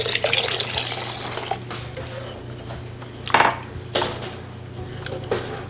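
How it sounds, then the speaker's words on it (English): About a cup of water is added to a beef rigatoni tomato sauce in a home kitchen, with running water, splashing and a few clinks of cookware, close and fairly loud. "We're gonna add about a cup of water,"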